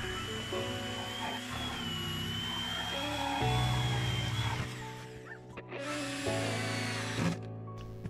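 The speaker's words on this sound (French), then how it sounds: "je découpe une ouverture dans la terrasse." A power tool whines loudly and close while cutting an opening in a wooden spa deck, its pitch shifting under load before briefly stopping and starting again.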